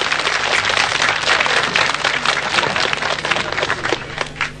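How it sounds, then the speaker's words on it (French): A crowd of audience members applauds at an outdoor 1983 broadcaster event in Nassogne, a dense patter of many hands clapping steadily for several seconds, slightly thinning toward the end. "recevoir les premiers applaudissements du public qui signale qu'il est bel et bien là"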